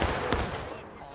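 A musket volley in the Civil War game War of Rights: one sharp, crackling burst of fire about a third of the way in, standing out from a steady, dense battlefield din.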